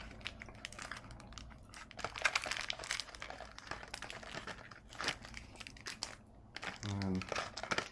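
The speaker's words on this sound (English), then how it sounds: "Take off the wrapper." A plastic wrapper crinkles and tears as it comes off a pack of soba, the crackling arriving in close, fairly quiet bursts of rustling and crumpling.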